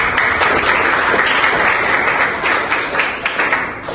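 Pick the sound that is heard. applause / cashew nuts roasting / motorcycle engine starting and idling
applause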